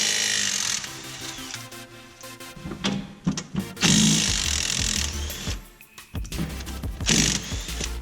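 A power tool, likely an impact wrench, removes suspension fasteners on a Scion FR-S, with 17 mm and 14 mm bolts at the knuckle and shock. It makes close, loud bursts of whirring and rattling, separated by brief pauses and clanks of metal.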